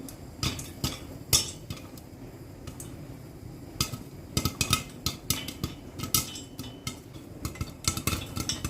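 Irregular sharp pops and ticks of popcorn burst out inside a glass-lidded pot, scattered at first and then coming faster, with a faint background hum and no talking.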